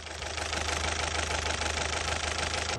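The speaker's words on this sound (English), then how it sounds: "Customer states their Chevy Cruze engine runs like a diesel" A Chevy Cruze engine runs steadily with a rough, rattling knock, loud and close, chattering like a diesel for the whole stretch with no voices.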